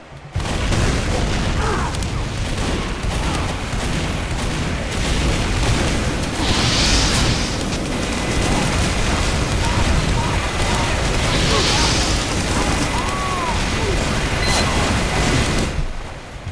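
Rocket explosions from rocket jumping in Team Fortress 2 boom heavily under a dense, loud wash of constant game noise, with a couple of brighter blasts standing out midway.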